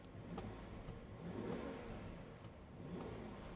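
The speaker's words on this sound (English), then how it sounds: "give you just a bit of a sound check here" A Brabus-tuned Rolls-Royce Cullinan 700 hp V12 engine rumbles low and smooth, rising and easing slightly as it revs, heard from inside the vehicle with the window down.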